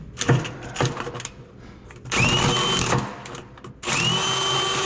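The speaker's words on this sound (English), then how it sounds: "Come on, drill." A power drill with a 23/32 bit bores a hole in steel for a 1/2-inch drain plug on a small skid, whining in close, loud bursts that stop and restart.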